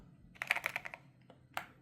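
Typing on an MSI Forge GK600 TKL wireless keyboard: a quick run of close, clicky keystrokes followed by a pause, a few scattered taps and one final sharp press, with no talking.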